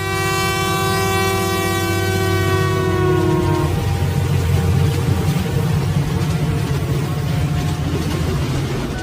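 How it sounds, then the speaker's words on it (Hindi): A second train passes alongside a moving train, opening with a long sustained horn blast that cuts off, followed by loud continuous rumbling and clattering of wheels on the rails. "तभी एक दूसरा ट्रेन इस ट्रेन के बगल से क्रॉस"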